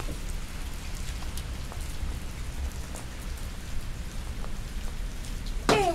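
Steady rain patters on a surface, a constant soft hiss with scattered drops, ending with a brief sharper sound.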